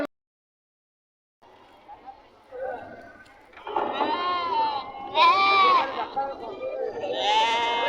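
Sheep bleat loudly several times, overlapping, close by, at the Amingad sheep and goat market in Karnataka, after a quiet start with a little low background noise.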